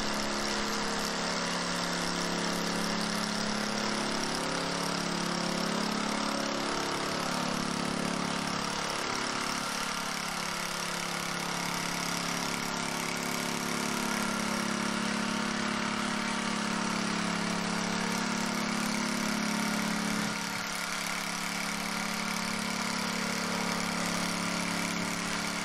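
A power trowel's small engine runs steadily on a garage concrete slab, a continuous mid-loud drone with a slowly wavering pitch and no talk.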